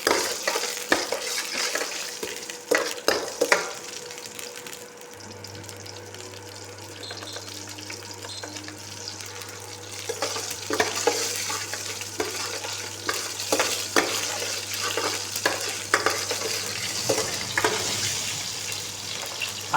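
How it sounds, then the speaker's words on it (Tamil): Cumin seeds crackle and splutter in hot oil in a pan, a continuous busy sizzle with sharp pops, stirring scrapes and a low steady hum underneath, close and moderately loud. "நல்லா பொரிஞ்சு முன்னாடி சீரகம் போடணும்."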